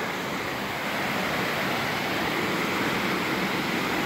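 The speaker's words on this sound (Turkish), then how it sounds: "Buradaki şelale sanırım daha güzel. Zaten su sesi insanı mest ediyor." Hacıllı waterfall, its water rushing and splashing in a constant broad roar, close and loud throughout, with no voices and no breaks.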